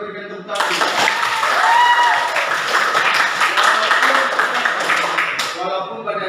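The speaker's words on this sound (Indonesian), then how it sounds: "mari kita berikan tepuk tangan" Classroom applause from a group of students, with a burst of many hands clapping that starts sharply, stays dense and close, then stops abruptly near the end, with voices mixed into it.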